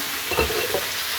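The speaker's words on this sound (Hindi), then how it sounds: "अब हम इसमें मटन ऐड करेंगे, मिक्स करेंगे।" Mutton stirred into a hot pan with cumin seeds, a short soft scrape of the spoon over a steady hiss of frying, the whole sound close and even.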